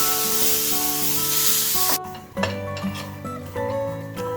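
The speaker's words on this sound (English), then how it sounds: "I'm going to dry roast it until I see the charred mark on the coconut. Keep mixing it, keep stirring it." Fresh coconut dry-roasts in a pan for Chettinad chicken: a loud hiss cuts off abruptly, then repeated scraping strokes of a spoon stirring against the pan follow, close and with no voices.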